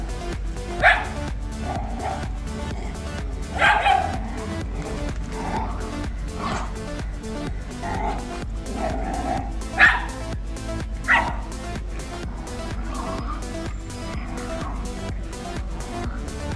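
Dogs bark in short, scattered bursts during an outdoor walk on a trip near the Pakistan–India border, with single yips and a quick double bark heard over a low background hum.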